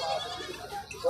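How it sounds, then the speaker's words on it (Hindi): A desi goat bleating at a goat market, a short wavering cry heard close up with a person's voice mixed in around it. "बिल्कुल देसी बकरी है"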